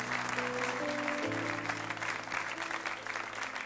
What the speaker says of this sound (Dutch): Zullen we deze mensen een applaus geven?